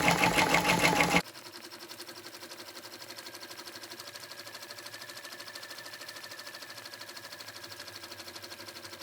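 An embroidery machine stitching a design onto a sweatshirt, a steady rapid mechanical chatter that starts louder and busier for the first second, then continues at an even, quieter rhythm throughout.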